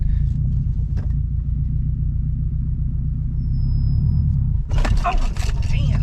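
A car pulls away from a stop during a driving lesson, its low engine rumble steady throughout, with a brief thump near the start and a rise in noise and activity toward the end.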